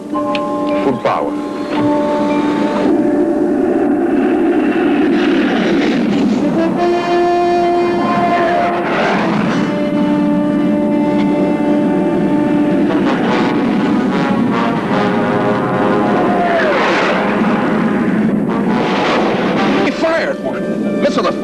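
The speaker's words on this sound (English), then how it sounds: "Here's a scene in which the Concorde is being attacked by a fighter plane." Jet engines roar continuously as a Concorde is attacked by an armed Phantom fighter in a film scene, a loud sustained drone with shifting whines and tones under urgent dialogue.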